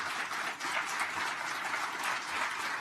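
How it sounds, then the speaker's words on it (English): A conference audience applauds the panelists after a debate on marijuana legalization at CPAC 2018, a dense, even wash of clapping that holds steady for the whole stretch. "Big round of applause for our panelists today."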